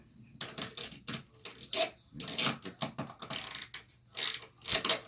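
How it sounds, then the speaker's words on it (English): Screws are taken out of the mounting of a 34-inch turntable with a screwdriver, producing a close, irregular run of ratcheting clicks and scraping metallic ticks in short bursts. "Screwdriver."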